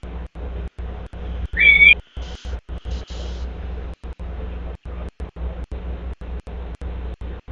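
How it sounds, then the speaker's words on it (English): A single short whistle from someone outdoors near a parked car, heard once, clear and moderately loud over a steady low background hum. "I don't know what the whistling's for."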